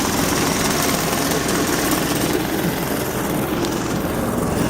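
A bus engine in Utah rumbles loud and close in a steady broadband roar as it passes nearby, with no voices over it.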